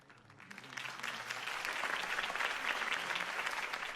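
Crowd applause in the video game Batman: The Telltale Series swells up and holds steady, a dense wash of clapping with no voices over it.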